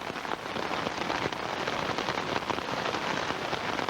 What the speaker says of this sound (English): Five hours later, it's still raining.